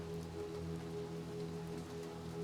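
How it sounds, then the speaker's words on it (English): Rain patters steadily on surfaces in the dark game Little Nightmares II, a constant hiss of falling drops over a low tonal hum, with no talk. "we got to run in the rain for a while"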